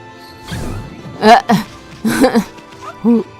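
Small white wolf pup in the Okami video game giving short yelps and whimpers, several brief high cries in bursts with a final whine, close and clear.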